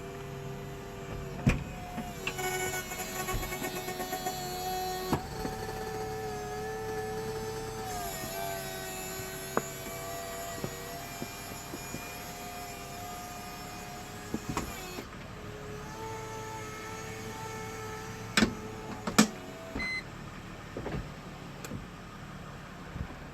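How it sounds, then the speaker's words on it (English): The electric convertible top of a 2004–2008 Chrysler Crossfire opening, a steady motor whine with shifting pitch, punctuated by mechanical clicks and clunks over about twenty seconds. "Now we're ready to just open the convertible."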